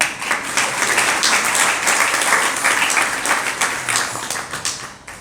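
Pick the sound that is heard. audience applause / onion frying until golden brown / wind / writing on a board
audience applause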